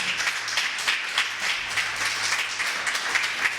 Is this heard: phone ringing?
no